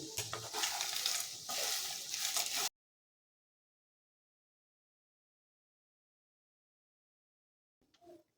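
Roasted leftover roti pieces are stirred into a cooked mixture in a pan with the gas off, giving a loud, steady scraping and rustling for under three seconds, then near silence with a brief faint clatter at the end.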